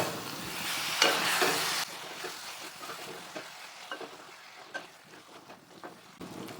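Thick curd stirred into a winter melon dish in a pan, a brief louder hiss early on followed by quiet scattered clicks and scrapes of mixing.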